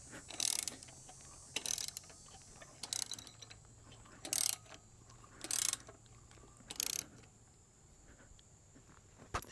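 A hand ratchet tightens a transmission cooler line fitting during a GM 4L80E transmission rebuild, heard up close as six short bursts of rapid clicking separated by pauses, with no talk.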